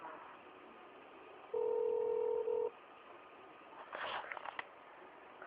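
Quiet telephone dialing tones while a call connects: one long, steady dual-pitch tone, then after a pause a quick cluster of short beeps, over faint line hiss.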